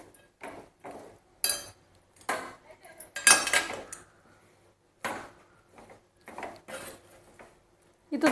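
Laddoo mixture with cardamom powder and raisins stirred in a pan, giving intermittent close metallic scrapes and clinks of a spoon against the vessel, separated by quiet gaps.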